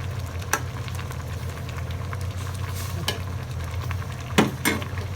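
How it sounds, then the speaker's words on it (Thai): Soup boils hard in a pot with a steady bubbling, sizzling rush and a few sharper pops and clicks near the end, close and alone with no speech. "ไฟอ่อนๆมัน เดือดแรงแล้วมองไม่เห็น"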